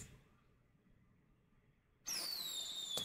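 A firework whistles upward in a K-pop music video, a sudden loud rising-then-falling shriek after a quiet, faintly hissing lead-in, nearby and alone.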